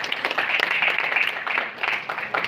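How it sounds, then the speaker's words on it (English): Audience applause and clapping at a live stage event with a cast, moderately loud and choppy, with brief dips, lasting a couple of seconds. "Give a big round of applause."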